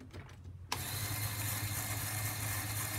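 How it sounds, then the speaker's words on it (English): A Lego extra large motor drives a gear-based ball-picker module for a Great Ball Contraption, starting abruptly and then running as a steady, close mechanical whir with a low motor hum and gear chatter. "That's exactly why I used an extra large motor for this."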